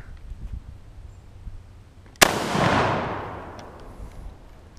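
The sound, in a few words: 1939 Mosin Nagant 7.62x54r rifle shot at a Freon tank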